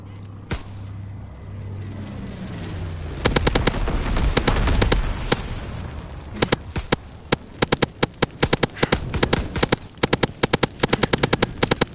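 An incendiary firebombing run in Call of Duty WW2: a low-altitude bomber's swelling roar gives way to a long stream of sharp, rapid cracks and pops, loud and close.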